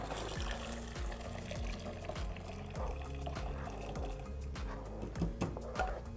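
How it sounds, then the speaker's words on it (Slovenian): Vanilla-infused water strained in a molecular-gastronomy kitchen: a continuous liquid pour and trickle with a dense, bubbling texture and a few clinks, close and steady throughout, no voices. "Jaz bom precedil vaniljevo vodo."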